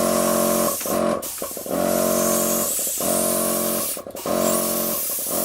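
Paint spray gun spraying while custom painting a Transformers Megatron figure, a loud hissing compressor-driven spray in several bursts of about a second each, separated by short pauses, with no talk.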